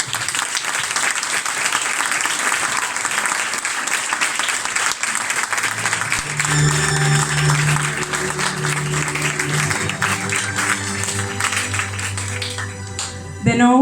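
Sustained audience applause at a Valencian Falles presentation, dense and steady throughout, joined midway by a low tonal hum of music or instruments beneath the clapping.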